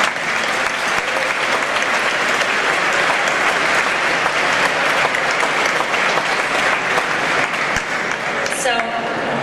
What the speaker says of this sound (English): I think we all should applaud Mr.